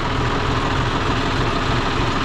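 A John Deere 5036 D tractor engine idles at close range, a loud, steady, rumbling drone with an even, unbroken texture throughout.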